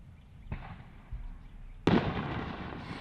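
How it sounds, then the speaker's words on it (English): Fireworks go off nearby during a 2021 Clash at the Canyons disc golf round: two duller thumps, then a sharp, loud burst that trails into a crackling rumble. "So we had some fireworks going off at this point, and you didn't really know when they were going to come."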